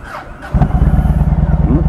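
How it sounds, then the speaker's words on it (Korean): A Yamaha MT-01 motorcycle's big V-twin engine kicks in loudly with a deep, pulsing low rumble at a steady loping rhythm, close by and dominant. "역시 야마하 엔진."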